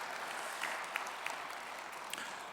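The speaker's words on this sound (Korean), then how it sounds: "목사님께 큰 감사의 박수 한번 보내시겠습니다." Audience applause at a church spiritual revival gathering, a steady wash of clapping from a seated crowd that holds evenly throughout, with a few sharper individual claps standing out.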